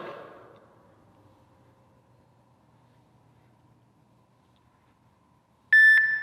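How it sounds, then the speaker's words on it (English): A workout timer sounds one sharp, loud electronic beep at the end, after a long stretch of near silence that follows a fading noise. "All the way to the last beep."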